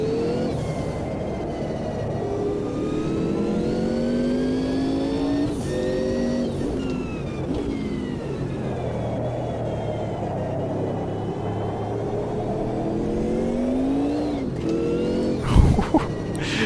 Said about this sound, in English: Big snap of oversteer on the power. Gotta be so careful with the throttle, really.